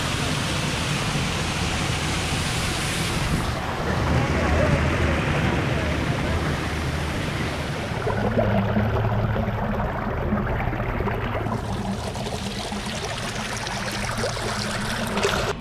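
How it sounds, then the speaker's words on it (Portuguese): A waterfall in the English countryside roars as a loud, steady broadband rush of falling water that fills the whole scene, with no clear speech over it. "Primeira cachoeira que eu vejo na Inglaterra."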